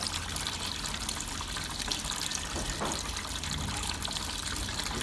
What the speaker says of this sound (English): So now we fill up the aquarium with water